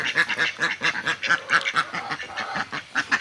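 Several ducks quack steadily in a rhythmic, overlapping chorus close by, inside a low-cost day shelter built for ducks and chickens, with no voices over the calls.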